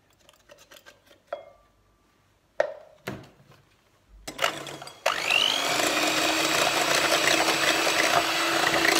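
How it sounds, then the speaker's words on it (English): A handheld electric mixer whisks cream until thick, starting after a few scattered kitchen clatters and then running as a steady, loud, continuous whir to the end. "I'm just going to use the hand mixer to whisk the cream until it's nice and thick"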